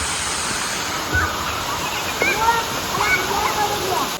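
A waterfall near Valanchery in Malappuram, swollen in the rainy season, roars as a steady, close wash of rushing water, with a few faint voices briefly heard over it.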